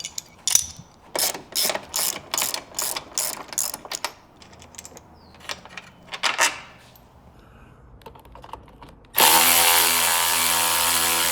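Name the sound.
removing bolt securing CB bar to Jeep roll bar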